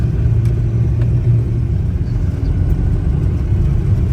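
A car creeps slowly along a windy, iced-over road, heard from inside as a constant loud low rumble with faint scattered ticks on top.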